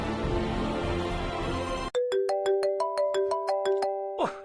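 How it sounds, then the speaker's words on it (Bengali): A telephone rings with a repeated electronic ringtone of evenly spaced bright tones, close and clear, sounding alone after a burst of busy background sound ends abruptly. "নবকুমার বাবুকে একটা ফোন করবো?"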